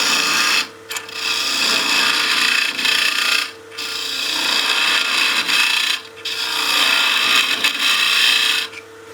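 A woodturning scraper undercutting the rim of a bowl on a spinning lathe, a steady loud scraping rasp in long close strokes broken by a few brief pauses as the tool lifts.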